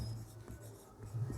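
Chalk or a marker scratches and rubs across a board during a maths lesson. The writing is faint and continuous, with a low background hum and no speech.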